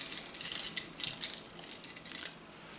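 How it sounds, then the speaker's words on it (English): House keys handled close up, a bright metallic jangle and clinking of keys against each other that keeps going in small bursts throughout, with no talking. "House keys,"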